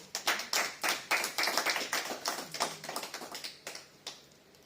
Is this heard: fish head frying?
no